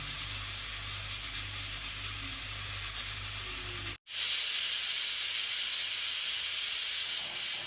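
A pressure cooker holding pieces of soaked masu with half a spoon each of salt and turmeric vents steam as a steady, loud hiss. It cuts out briefly partway through, then resumes just as strongly.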